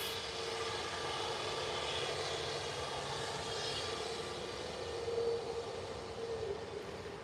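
An EasyJet airliner at Manchester Airport, queuing to depart, gives a steady, loud engine roar with a broad rushing hiss that holds throughout and swells slightly near the end, with no voices.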